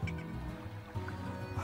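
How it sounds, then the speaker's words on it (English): Hens in the farming game Slime Rancher give several short, throaty clucks in an uneven rhythm against a soft musical background, fairly quiet overall. "We're also collecting hens."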